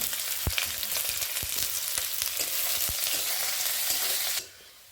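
Chopped onion and dried red chillies fry in hot oil with a constant crackling sizzle, punctuated by several sharp knocks of a spoon against the pan before the sound cuts off abruptly near the end.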